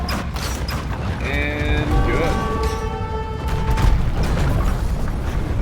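A siege weapon's shot crashes into a castle in Age of Empires II, a deep booming impact with mechanical rattling and tonal game effects, heard under steady battle noise and a voice.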